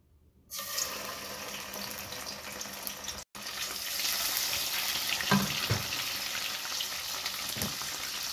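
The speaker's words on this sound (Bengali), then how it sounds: "এখন দিয়ে দিব শুটকিটাকে প্রথম আমি ভেজে নেব।" Dried fish (shutki) hitting hot oil in a pan, a sudden loud hiss of frying that starts after a brief silence, breaks off for a moment, then carries on as a steady sizzle with a few clinks.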